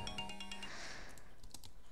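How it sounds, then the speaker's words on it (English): A mobile phone rings with a short bright electronic tone that fades quickly, followed by faint keyboard clicks and tapping during computer gameplay. "that was just my phone"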